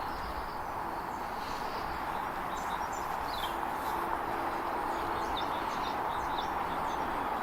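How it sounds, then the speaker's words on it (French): Faint, sparse bird chirps over a steady soft hiss of light drizzle in a quiet, long-abandoned cemetery, with occasional high tweets rising briefly above the background. "vous entendez les oiseaux logiquement"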